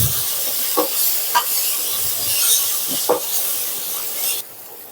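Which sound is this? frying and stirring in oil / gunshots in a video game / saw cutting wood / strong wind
frying and stirring in oil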